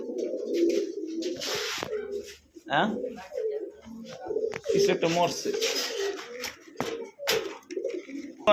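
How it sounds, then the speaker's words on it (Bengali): Domestic pigeons at a pigeon market, including hens, give low, rhythmic cooing up close while people talk throughout. "এই পর্যন্ত দেখতে পাচ্ছেন এখানে 2 পিস মাদি কবুতর আছে।"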